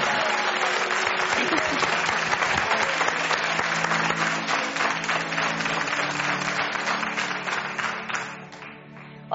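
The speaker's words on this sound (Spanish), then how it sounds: "Y este aplauso es para ti." Sustained audience applause, many hands clapping in a thick, lively burst that holds for several seconds and then slowly fades away toward the end.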